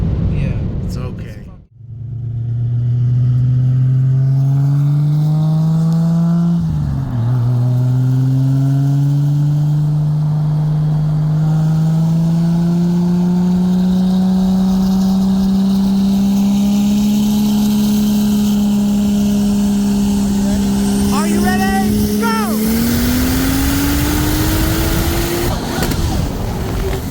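A 1995 Toyota Supra with a single turbo on E85 drag races a 2020 BMW M8 Competition with bolt-ons, a loud engine droning steadily as it pulls through long gear stretches, with shift breaks and a final higher rev, close and continuous.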